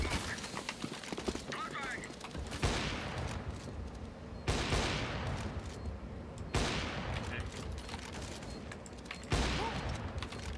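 Gunshots in a shooter video game crack out in several loud separate bursts spaced a couple of seconds apart, over a busy background of game noise and faint talk.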